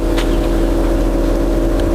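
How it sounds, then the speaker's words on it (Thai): A steady, low exhaust drone from an idling BMW E39 engine through a one-piece exhaust pipe, continuous and close, with no voices. "ท่อไอเสียนะครับ ก็เป็นท่อแบบ ท่อชิ้นเดียวนะครับ เสียงก็ ไม่ดังมากนะครับ"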